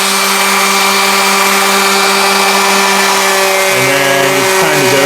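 A grinder for sharpening switches on and runs at a loud, steady whine, its motor tone holding even with no one talking over it.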